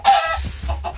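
Minecraft chickens cluck in a short burst of game fowl sounds, a couple of close clucks with no talking.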